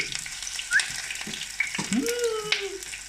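Acacia flower fritters sizzle steadily in hot oil in a pan, a continuous hiss with a few soft spatters and light clinks, heard close up with no talking.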